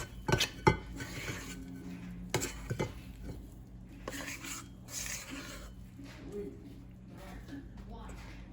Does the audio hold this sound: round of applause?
no